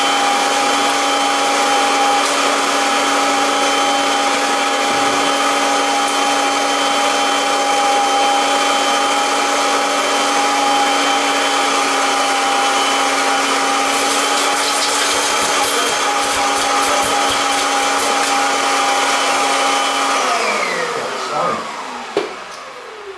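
A Kirby Avalir vacuum cleaner runs steadily and loudly up close, with a high whining motor drone for about twenty seconds that then winds down with a falling pitch, ending in a few clunks.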